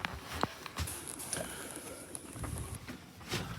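Pigeons in a loft give soft cooing calls with scattered fluttering and shuffling nearby, and a thin steady tone hangs in the background, all fairly quiet and without talk.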